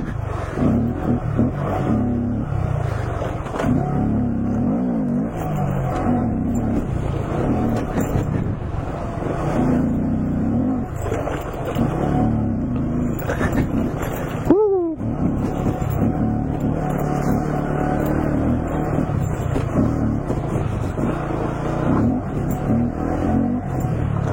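A car drifts through a fun off-road section, its engine droning and revving continuously with wind buffeting the microphone, plus a brief sharp whine midway.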